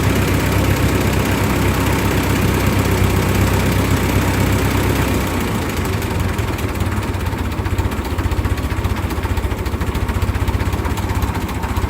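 The engine of a 1945 Ford 2N loader tractor idles steadily and loudly up close, a continuous low rumble that settles slightly lower partway through, with no talking.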